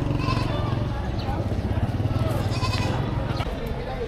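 Goats bleat repeatedly at a busy livestock market, several nearby animal calls rising over a constant crowd murmur, with people talking and bargaining throughout.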